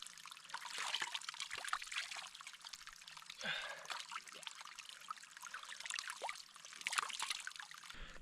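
Water trickles and splashes in a small mountain stream high in the Alps while someone bathes in it, a soft, continuous babbling with irregular splashes, faint and close.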